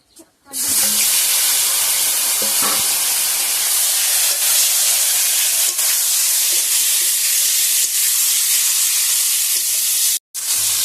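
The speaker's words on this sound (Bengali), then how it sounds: "অল্প লবণ দিয়ে আর অল্প হলুদ দিয়ে এবার বেগুনটা ভেজে নেব।" Eggplant pieces seasoned with salt and turmeric fry in a pan, giving a steady, close broadband sizzle and hiss that runs almost without a break, with a short dip near the end.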